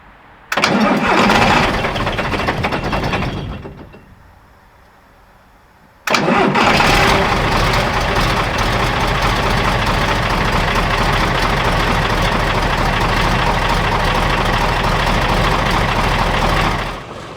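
A Unimog 416 truck engine cranks and catches on a cold afternoon, runs loud for a few seconds, dies away, then restarts and settles into a steady, close, rumbling idle with no talking.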